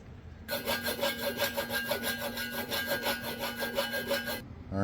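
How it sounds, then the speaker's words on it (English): A grinder works over a brazed metal Thor's hammer, giving a steady, close rasping grind with a rhythmic pulsing texture for about four seconds before stopping abruptly. "I'm just going to continue grinding this off and see"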